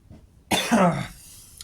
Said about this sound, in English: Dry throat. That is why I'm coughing.